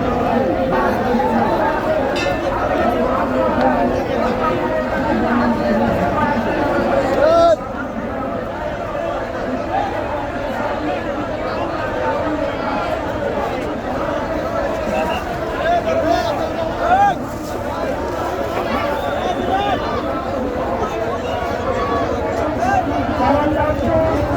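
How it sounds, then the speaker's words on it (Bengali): A dense crowd of worshippers hurries to board river launches at a large religious gathering at Char Monai, a steady loud babble of many voices with footsteps and bustle throughout, occasional shouts rising above the hubbub. "সব মুসল্লিরা যার যার গন্তব্যস্থানে যাওয়ার জন্য সবাই তাড়াহুড়ো করে লঞ্চে উঠতেছে।"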